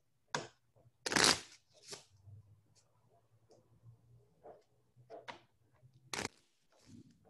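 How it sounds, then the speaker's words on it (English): A deck of cards is shuffled at a tabletop game of Gloomhaven, with several quick riffling bursts and soft clicks close by, separated by short pauses and with no talk. "I forgot to shuffle this, so hold on, let me shuffle"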